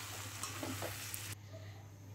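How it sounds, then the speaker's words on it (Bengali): Meat curry cooking in a pan as a little broth is poured in, giving a steady faint sizzle with a few stirring scrapes and a low hum underneath, then quieter after the liquid settles. "মাংসের ঝোল দিয়ে দিলাম"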